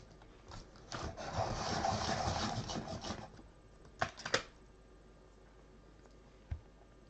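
A colored drawing pencil is sharpened in a steady, grinding rasp lasting about two seconds, followed by a few sharp clicks and a faint tap. The sound is close and fairly quiet.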